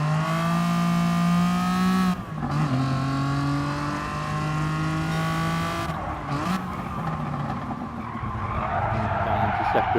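A race car engine in a sideways-driving game with a Group B GT86 and TVR Tuscan revs hard and loud, drops pitch in stepped downshifts with brief gaps between gears, and mixes with tire skid.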